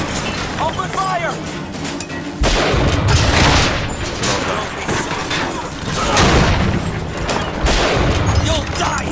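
Gunfire in BioShock Infinite, bursts of shots and impacts crackling through a loud, chaotic firefight, with enemies shouting over the shooting.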